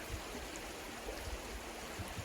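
Rock Creek flowing at a hiking crossing in Pickett State Park, a steady broadband rush of creek water that fills the scene without pause, close and moderately loud, with no voices.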